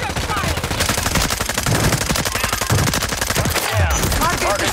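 Gunfire in a video game, with rapid machine-gun bursts rattling continuously and close, a few heavier shots mixed in, and a voice talking briefly over the shooting.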